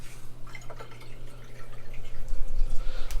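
Water running and dripping from the faucet of a 1983 Coachman camper once the pump is switched back on, a soft irregular trickle with light drips over a low steady pump hum.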